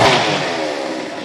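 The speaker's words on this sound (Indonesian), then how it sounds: "Joan dan Owen mendengar suara gergaji mesin dari atas." A chainsaw engine running upstairs in a film scene about a contractor in a house, a steady mid-pitched motor drone that starts loud and then holds slightly lower for just over a second.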